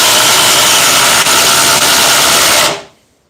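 Milwaukee and Dewalt oscillating multi tools run together in a cutting race, giving a loud, steady buzzing whine that holds for over two seconds and then cuts off abruptly into quiet.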